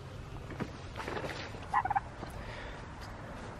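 Turkeys in a farmyard give a short burst of gobbling, a quick rapid run of calls at moderate distance over a steady outdoor background.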